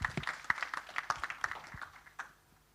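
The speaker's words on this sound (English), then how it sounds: "Round of applause for Lewis." Scattered, fairly sparse clapping from a small audience at a business talk welcoming a speaker, individual claps audible before fading out.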